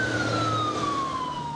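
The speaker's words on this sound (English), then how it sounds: "When you hear a siren and see flashing lights" A loud siren wails with a steady, slowly falling tone over the low rumble of a vehicle engine.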